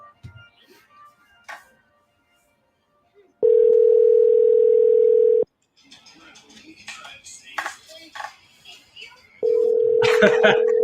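Steady telephone dial tone heard twice while placing a blind call, a few seconds each, with quiet talk and clicks in between.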